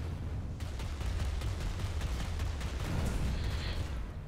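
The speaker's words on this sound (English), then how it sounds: "Oh, big explosions." Big explosions and gunfire crackle in the sci-fi shooter game Planetside during a tank battle, a dense run of repeated sharp blasts over a continuous rumbling battle din, with no speech.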